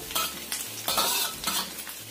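Shallots sizzle quietly in a pan while a utensil stirs them in a few brisk scrapes, the frying crackle steady underneath.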